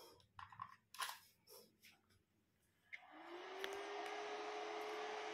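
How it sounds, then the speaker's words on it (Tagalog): The cooling fan of a Big Dipper LPC-015 PAR LED light spins up after a few handling clicks and knocks, then settles into a loud, steady close whoosh with a rising motor whine. "nadinig niyo yung fan"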